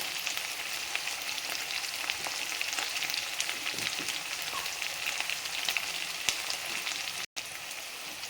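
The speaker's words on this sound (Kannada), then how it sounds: "ಈರುಳ್ಳಿ ಮೆಣಸಿನ್ಕಾಯಿ ಕರ್ಬೇವು ಸೊಪ್ಪು ಅಷ್ಟು ಹಾಕಿ ಬಾರಿಸ್ಕೊಳ್ಳೋಣ" Onion, green chilli and curry leaves frying in a pan, a steady dense sizzle with faint spatters, close and continuous with a brief dropout near the end, no voices.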